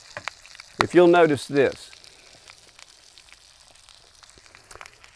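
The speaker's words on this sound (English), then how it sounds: "I let the eggs start the whites forming, but I leave the yellows whole at this point." Eggs frying in a pan give a soft continuous sizzle and light crackle in the background, and someone briefly speaks over it near the start.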